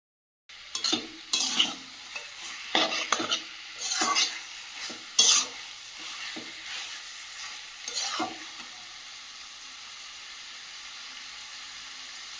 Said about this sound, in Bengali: তো এইভাবে ঢাকা দিয়ে দিয়ে কষিয়ে নেব লো ফ্লেমে